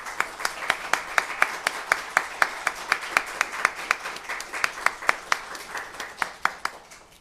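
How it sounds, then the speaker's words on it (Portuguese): Audience applause greeting the arrival of a law lecturer at a talk on marriage, heard as a thin scattering of distinct, fairly regular hand claps that keep going steadily for several seconds with no voices. "Por favor, recebam com uma salva de palmas, por favor."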